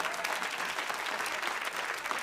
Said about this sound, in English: You notice they didn't really want to clap for that.